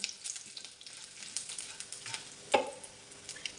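Cumin seeds sizzling in hot oil for a yogurt tempering, a soft steady crackle and hiss with a sharper pop near the end, close and fairly quiet.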